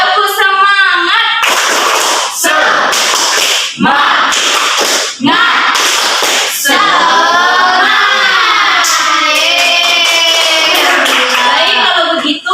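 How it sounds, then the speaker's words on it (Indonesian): A classroom group doing a spirited clapping chant before prayer, with loud rhythmic bursts of hand claps from children and a teacher alternating with energetic chanted voices. "marilah kita melakukan tepuk semangat bersama-sama"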